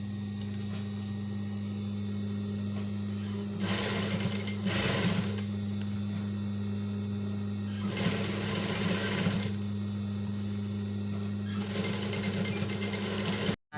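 An electric sewing machine stitches a ruffle onto a dress in three loud, steady bursts, with pauses between them. A constant motor hum runs underneath throughout.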